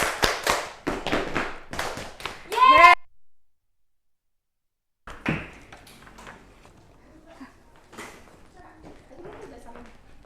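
Classroom group in a microteaching session claps rhythmically along to a sung children's song, several bright claps in a steady beat under singing voices, then silence and scattered talk with faint tapping.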